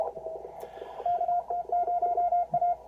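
A CW Morse code signal received on an amateur radio through a narrow bandpass filter: a clean single-pitch tone keying dots and dashes in a steady rhythm over faint background hiss, no voices.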